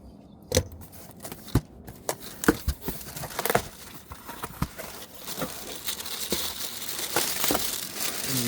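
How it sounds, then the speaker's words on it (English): Shipping box for a rugged hard case being opened: scattered sharp crinkles, tears and rustles of cardboard and plastic packaging, close and uneven, growing into a denser rustle toward the end. "opening up the box here that it ships in"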